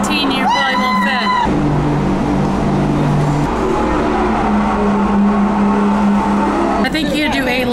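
Go-karts race around a track on the Norwegian Bliss cruise ship, their engines droning steadily nearby with brief high tire squeals, while people talk over the constant motor noise.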